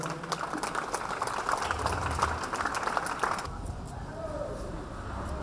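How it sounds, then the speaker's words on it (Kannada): Dense crowd clapping at a school send-off for SSLC students, with voices mixed in; the applause runs for a few seconds and then stops abruptly. "ತಾವೆಲ್ಲರ ದೊಡ್ಡ ಚಪ್ಪಾಳೆ ಬರಬೇಕು"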